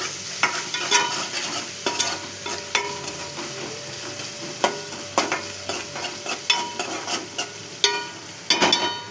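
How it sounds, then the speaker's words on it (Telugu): A turmeric spice mixture is stirred in a frying pan, with repeated scraping strokes of a utensil over a soft steady sizzle, close and moderately quiet. "కొంచెం పసుపు వేసుకొని బాగా కలపాలి. పచ్చివాసన పోయేదాకా కలపాలి."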